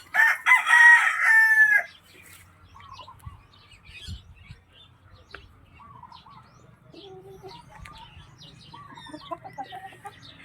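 A rooster crows loudly up close at the start, then Rhode Island and PBR chickens keep up scattered, quieter clucks and calls with a low background rumble.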